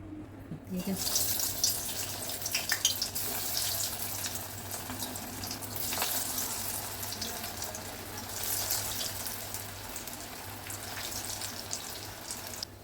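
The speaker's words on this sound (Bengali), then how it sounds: "আপনারা এটাকে একদম কম আঁচে ভাজবেন, নালে ভেতরটা কাঁচা থেকে যাবে" Minced soybean fritters frying in hot oil in a pan on low heat give a steady, dense hiss and crackle that stays even throughout, close by and continuous.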